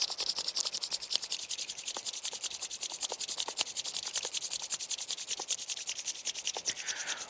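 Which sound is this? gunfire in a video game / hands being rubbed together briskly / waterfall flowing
hands being rubbed together briskly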